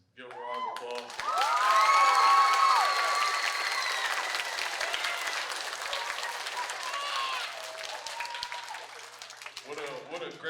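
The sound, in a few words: audience applause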